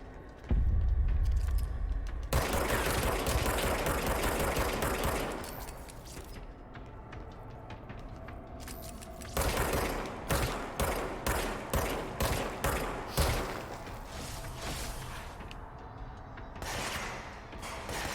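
Repeated pistol shots in the video game Control from the Infinity pistol, a sidearm with unlimited ammo, firing in a quick series of sharp cracks, with bursts of louder gunfire and clattering game effects around them.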